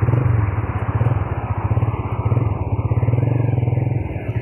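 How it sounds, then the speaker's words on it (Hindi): A motorcycle starts on a bridge crossing and pulls away, its engine loud and close with a steady rapid low throb throughout. "ते हुण असी बाइक तोरन लगे हाँ। चलो जी साहिल साहब करो स्टार्ट।"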